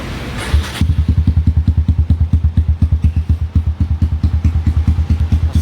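A Kawasaki D-Tracker 150 motorcycle with a modified special engine starts and then idles in a loud, close, lumpy, thumping rhythm of rapid regular pulses, with no talking.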